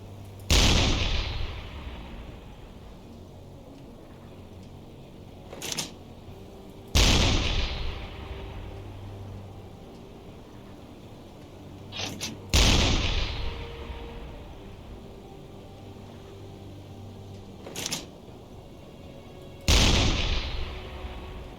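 A U-boat deck gun in a submarine video game firing armor-piercing shells at a large tanker: four heavy booming shots spaced about six seconds apart, each with a long rolling decay, and faint distant impact thuds between them.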